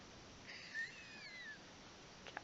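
A house cat gives a single soft, drawn-out meow with a rising-then-falling pitch, faint against quiet room hiss, followed by a couple of small clicks.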